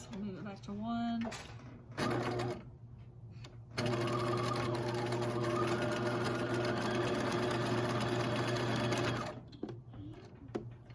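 A home sewing machine runs steadily while stitching a zigzag seam finish on a romper, starting and stopping in short bursts before one long continuous run, close and fairly loud.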